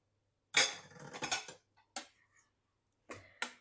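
A spoon clinks and scrapes against a pot while stirring zhurek, a sour Polish soup, in a home kitchen; a few close, sharp metallic taps come in short bursts with quiet gaps between.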